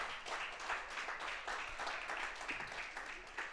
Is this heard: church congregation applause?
yes